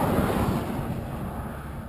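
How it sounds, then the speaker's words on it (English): Strong wind buffets the microphone on Mexican Highway 2 on a windy morning in Baja, a dense, continuous rushing roar with no voices. "It's quite windy this morning."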